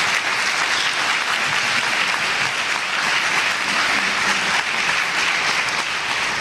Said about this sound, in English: That's right, she deserves applause.